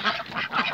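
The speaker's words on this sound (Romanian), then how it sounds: "Am o pereche de rațe leșești" Muscovy ducks give hoarse, breathy calls in a short rapid series, close and fairly loud, with no talking.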